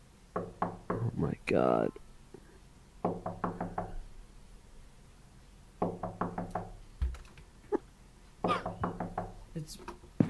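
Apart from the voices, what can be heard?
knocking on a door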